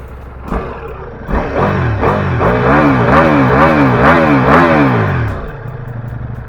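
A 2022 Ducati Multistrada V4S with a 1158 cc liquid-cooled 90-degree V4 engine is revved hard from idle, rising and falling in several quick, loud, close blips before settling back to idle.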